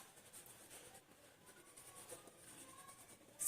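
A pen scratches out a maths solution on paper, a faint, close, uneven scribbling of short strokes with no speech over it.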